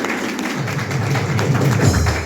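Applause from the audience at a Jharkhand Pradesh Congress meeting, a steady dense patter of many hands clapping at moderate loudness throughout.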